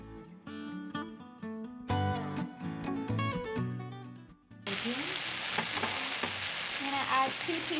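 Rice and thyme hit a hot pot for a Trinidadian veggie pilau, bursting into a loud sustained sizzle after a stretch of background music, with light stirring scrapes.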